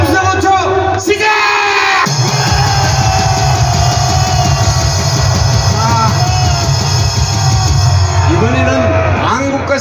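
Large outdoor political rally crowd roaring and shouting together on cue, a loud sustained mass of yelling and cheering voices that swells and holds for several seconds, with a brief dip near the start.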